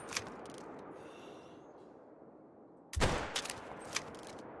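A single loud, close gunshot rings out in a hunting video game during a fox hunt, a sharp crack with a short tail breaking a quiet outdoor ambience.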